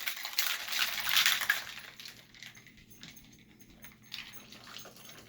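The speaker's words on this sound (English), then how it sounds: "Alright, we got a little ice in our shaker. We're going to shake this." Ice rattles in a cocktail shaker as a drink is mixed, a bright clattering burst up close that fades to quieter, scattered clinks and a final rattle.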